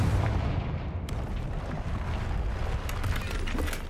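A Confringo blasting spell in Hogwarts Legacy bursts into a loud, booming explosion with a heavy low rumble that rolls on for several seconds, sharp crackling debris snapping through it.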